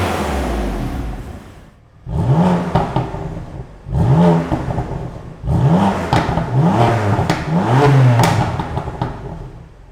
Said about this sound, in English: the first set of 5 revs were with the car with the valves closed, and then we did 5 more revs with the valves open